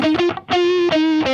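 An electric guitar played with distortion at maximum sounds loud and close, ringing out sustained, buzzy notes with a brief gap between them.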